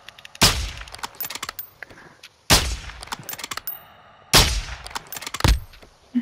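Three loud, sharp gunshots roughly two seconds apart ring out in a video game shootout during a sniper-support match, each followed by a short ringing decay and smaller clanks and clicks in between.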